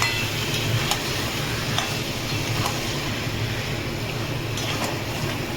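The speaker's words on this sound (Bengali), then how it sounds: "এবার এটাকে নাড়বো।" Chicken with tandoori spice masala being stirred in a pan, a steady dense frying noise with faint periodic scraping taps, fairly close and unbroken.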